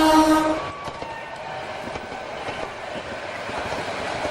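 A passenger train at a railway station sounds a brief horn, then rolls past with a loud, steady rumble and rhythmic clatter of wheels over rail joints.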